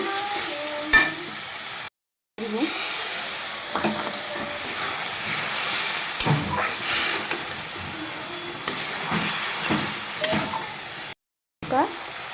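Tomato masala with turmeric and salt fries in a pan, giving a steady sizzling hiss with stirring scrapes and clatters throughout and two brief silent gaps.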